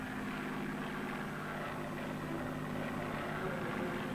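A 1957 survey airplane flies low over the Nevada desert during an atomic test mission, its propeller engine droning steadily and loudly with a constant throbbing hum.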